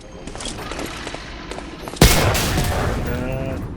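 Gunfire in the World War II shooter Medal of Honor Allied Assault: a faint crackle of distant shots, then a sudden loud blast at the midpoint followed by dense, sustained rattling fire and rumble.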